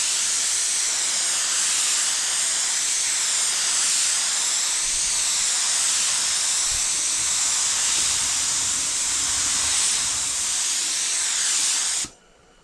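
Spray gun laying car paint onto a test sample panel, a loud continuous close hiss holding steady for about twelve seconds before cutting off abruptly, with no voices.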